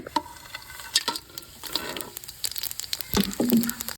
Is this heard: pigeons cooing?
no